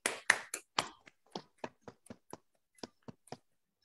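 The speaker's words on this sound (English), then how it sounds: "Let us all cheer them with a big round of applause for coming forward to educate us." Sparse applause from a small seminar audience, a few distinct claps spaced irregularly, fairly close and dry, trailing off quickly.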